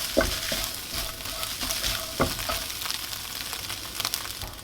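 Chopped food frying in a pan is stirred and mixed together, a close sizzle broken by repeated scraping strokes of a utensil across the pan, with no talking.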